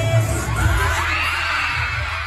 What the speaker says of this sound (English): the crowd went absolutely crazy when he like showed his eyes